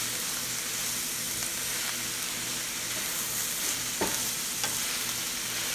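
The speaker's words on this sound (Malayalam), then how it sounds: "ഉള്ളി വഴറ്റാൻ മാത്രമേ ഉള്ളൂ നമുക്ക് കുറച്ച് സമയം എടുക്കുന്നത്" Finely sliced onions being sautéed for an egg and onion curry, a steady loud hiss of frying with a few soft scrapes of stirring in the pan.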